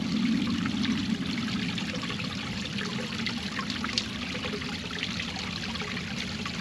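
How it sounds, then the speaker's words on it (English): Water trickles and splashes gently and continuously in a peaceful water feature at Kanapaha Botanical Gardens in Gainesville, Florida, a soft steady babble heard close with no talk. "And another peaceful water feature dedicated to Jess Ferguson"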